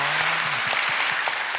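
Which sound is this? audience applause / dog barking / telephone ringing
audience applause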